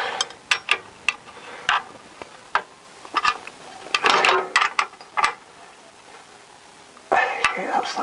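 Ratchet tightening 13 mm nuts on the driver's side driveshaft of a Ford Focus, heard as a series of short, sharp clicking bursts in irregular runs, close and fairly loud.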